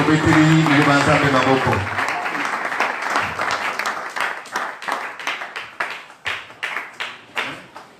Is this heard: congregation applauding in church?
yes